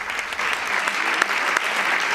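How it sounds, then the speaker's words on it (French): A burst of applause greets the opening of a debate on single-parent families in Paris, steady dense clapping from a crowd throughout, fairly close and loud with no talk over it. "C'est par une salve d'applaudissements que le débat a commencé mercredi à 17h à Paris."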